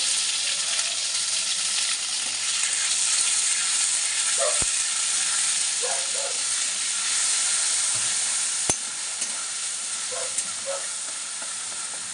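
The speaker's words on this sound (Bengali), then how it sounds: "শুধু সাদা জিরা ফোড়ন দিলাম" White cumin seeds sizzle in hot oil, a loud, continuous frying hiss that stays steady throughout, with a few faint utensil clinks near the pan.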